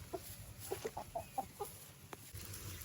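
Chickens and a rooster cluck in a quick run of short calls on a poultry farm in Ghana, heard faintly and moderately close over a steady outdoor hiss with no talk.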